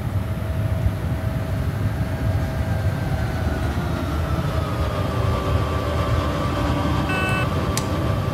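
A train departs in Train Simulator Classic, giving a steady loud rumble with a low droning hum and faint rising tonal whine, one brief sharp tone near the end.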